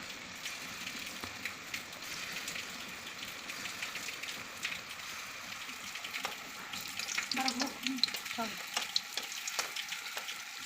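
Steady crackling sizzle of chhena cheese balls frying in hot oil in a kadai until reddish-brown, continuous and close, with a few louder spatters and clinks toward the end.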